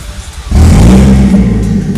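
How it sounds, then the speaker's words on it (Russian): A turbocharged Toyota Chaser running with no muffler fires up and revs hard, going from a quiet idle to a sudden loud, raw engine roar held steady at close range. "Первый выезд без глушака. Приводим двигатель в действие."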